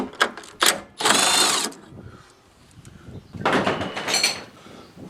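Bursts of a hand ratchet or power driver working bolts out with a 12mm socket on a Kubota tractor, several short clicks then two longer whirring runs separated by quieter clanking, close and alone.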